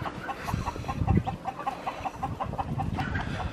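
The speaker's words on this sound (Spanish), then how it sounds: "Esta es una fábrica de gallos que hay aquí." Many chickens and roosters at a rooster-breeding farm cluck and call at once in a continuous, busy chorus, with a few louder calls standing out nearby.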